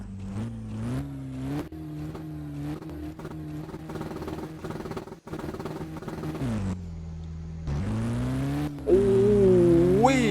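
A pickup truck engine in Roblox revs hard at launch, droning with repeated rises and drops in pitch, then climbing to a higher, strained roar near the end, loud and steady without talking.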